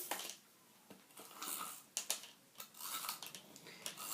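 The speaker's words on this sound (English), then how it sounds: "Just going to use some tape runner." A tape runner lays adhesive across a handmade thank-you card, giving quiet, short scratchy rasps and clicks in uneven bursts, close and faint with no talking.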